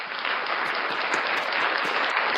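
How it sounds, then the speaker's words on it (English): Steady applause from a live audience at a breakfast show event, dense and sustained clapping at an even level throughout with no break. "Round of applause for Unclean Hands."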